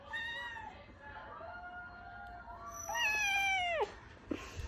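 A pet cat gives drawn-out, wavering meows, one long plaintive call followed by a louder rising-and-falling yowl, close to the listener over a faint room hum.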